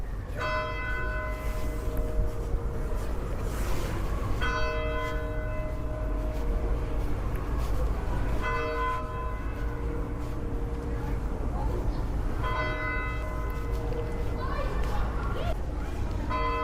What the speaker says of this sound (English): It's the bell is tolling.